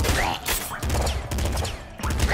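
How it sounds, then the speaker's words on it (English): Rapid bursts of gunfire in the top-down shooter game Nuclear Throne, with several sharp volleys in quick succession separated by brief gaps. "just gun everything down and don't really aim too much, just put bullets out there"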